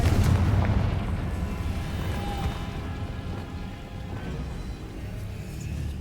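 A Confringo fire spell blast in Hogwarts Legacy lands with a heavy, booming hit at the start, then trails off into a long, rumbling, crackling wash of noise.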